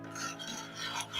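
A thick ragi sangati dough of finger millet is turned in a pot, giving a close, quiet scraping and rubbing of utensil against dough and pot, with no one talking.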